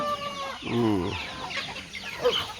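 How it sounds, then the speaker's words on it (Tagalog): Chickens, ducks and geese crowd a farmyard, a hen clucking and squawking loudly near the start, with further calls rising and falling behind faint background noise. "manok, pato, gansa"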